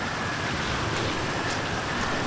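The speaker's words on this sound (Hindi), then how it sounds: "अभी यार बहुत ज़्यादा बारिश हो रखी है" Heavy rain in GTA 5 pours down as a dense, steady hiss that fills the whole stretch, close and unbroken, with no voices.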